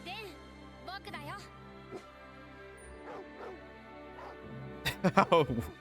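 A dog barks, yips and whimpers in a Fullmetal Alchemist: Brotherhood anime scene, with short tonal cries over a musical bed and a louder burst of yelps near the end; voices talk over it.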